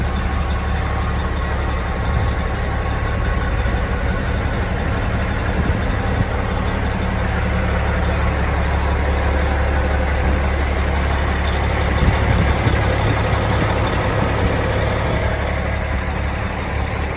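A Volvo tandem axle dump truck with a double frame idles for a long stretch, a steady, loud, low diesel rumble with no talking over it.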